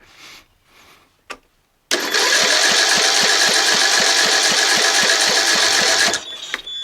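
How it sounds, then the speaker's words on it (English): A Briggs Intek OHV engine on a John Deere L100 17HP lawn tractor cranks loudly for about four seconds with a steady rapid chugging rhythm, then stops abruptly; a few faint handling noises come before it. "I'm going to crank it and see if I feel it sucking."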